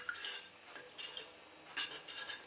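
A spoon stirring dissolved starch in a pot over low heat on the stove, with quiet scraping strokes and clinks against the pot that come in uneven bursts.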